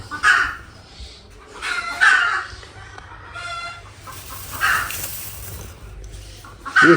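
A hen cackles after laying an egg in loud, repeated bursts of harsh clucking, close by, with short pauses between calls and no talking.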